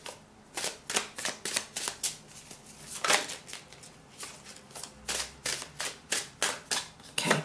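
Tarot cards are shuffled in quick repeated riffles and flicks, a close, crisp rhythmic papery clatter of about a dozen bursts with no talking.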